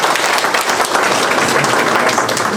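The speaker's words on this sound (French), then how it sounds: "Applaudissez, s'il vous plaît." Audience applause at a Malian embassy address in Gabon marking Mali's 22 September independence day, a dense, steady wash of many hands clapping at close range for the whole stretch.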